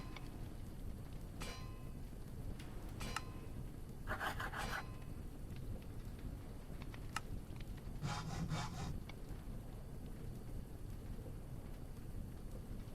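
Rasping, saw-like cutting bursts from plates being cut into screws in Star Technology, a Minecraft-style game, coming in short irregular strokes over a quiet background hum.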